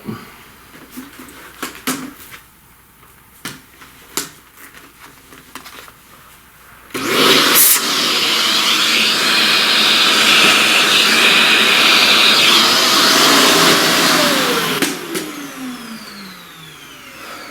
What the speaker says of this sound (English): Let's vacuum all that.